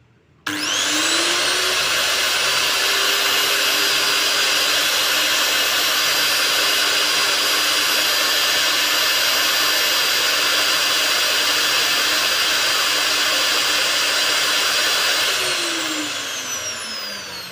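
A Makita M5801 electric wood-cutting circular saw rated at 1050 watts switches on and runs free with a loud, steady, high whine for many seconds, then starts to wind down at the end.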